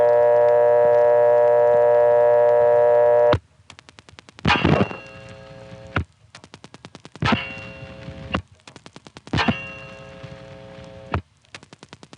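Reorder tone from a 1976 step-by-step telephone exchange in Rawlinsville, Pennsylvania: after a steady hum and a sharp click, a fast repeating on-off tone cuts in and out in bursts, with clicks and relay clatter between them.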